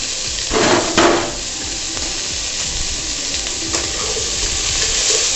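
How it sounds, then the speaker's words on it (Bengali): Sweet corn kernels tumble into a pan of frying onions with a couple of soft thuds. A continuous close sizzle follows, with light scraping and stirring sounds. "এবার আমি কর্নগুলোকে ঢেলে দেবো।"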